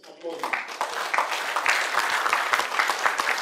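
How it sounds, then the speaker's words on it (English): Audience applause at an agricultural event, a dense run of claps sustained throughout, with a voice speaking over the start. "Please, can you help us applaud?"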